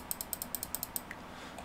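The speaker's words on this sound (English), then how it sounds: "My mouse is also broken, so excuse the massive clicking." A broken computer mouse clicking about nine times in a quick, fairly even series, sharp and close, then two softer clicks over steady background hiss.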